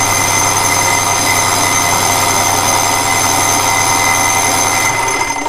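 A 1973 Johnson 65hp outboard engine runs steadily at close range, a loud, even drone with a constant mechanical hum that holds for the whole stretch, no voices over it.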